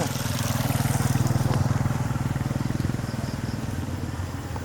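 A motorcycle engine putters loudly nearby with a rapid, pulsing rhythm, then fades slightly as it moves past.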